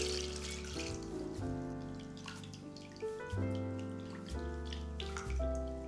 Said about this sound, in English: Pour water on it.